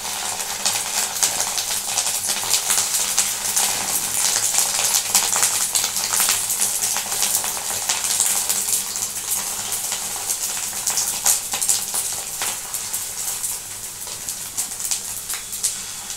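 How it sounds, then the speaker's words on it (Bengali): Fish roe fritters frying in hot oil in a karahi, a loud, steady crackling sizzle with dense spitting pops throughout, close by and continuous, easing slightly toward the end. "কড়াইয়ের তেল গরম হয়ে গেছে, এবার আমি আস্তে আস্তে এর মধ্যে ছেড়ে দেবো"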